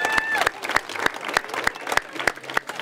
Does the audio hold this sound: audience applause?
yes